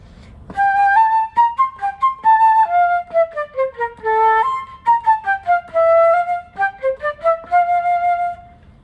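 A solo flute plays a short rhythmic phrase, two slurred longer notes followed by quicker tongued notes, clear and close.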